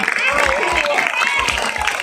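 Audience clapping at a school annual day dance performance, a steady wash of applause from a crowd with a voice over a loudspeaker talking on top of it.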